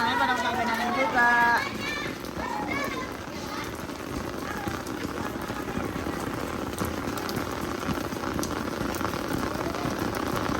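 Steady rain patters on the ground outdoors while people, including children, play and shout in it. Their voices come through loudly at first, then the hiss of the rain carries on evenly underneath.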